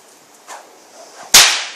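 A stock whip cracks once in a coachman's crack, loud and near, after a couple of soft swishing movements, with the sharp snap ringing briefly before fading.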